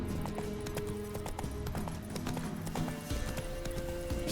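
Roach the horse trotting in The Witcher 3, a quick steady clip-clop of hooves with soft thuds and jingling tack under a low game backdrop, fairly quiet.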